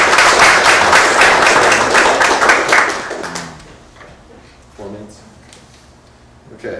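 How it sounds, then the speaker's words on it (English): A burst of applause from an audience at a poetry reading, many hands clapping loudly for a few seconds before fading away into quiet room noise. "Yes, applause."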